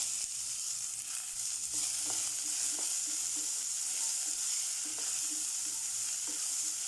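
Onions sauté in hot oil with green chillies and curry leaves for a chicken curry, giving a steady close sizzle with faint periodic taps of stirring.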